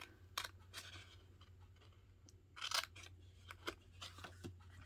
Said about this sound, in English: On one of these, you're going to cut off the corners down here.